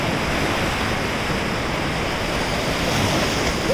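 Ocean surf rushes continuously onto white sand at Uluwatu Beach, Bali, a broad, steady roar of breaking water with no voices.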